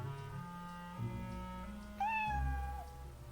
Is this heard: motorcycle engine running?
no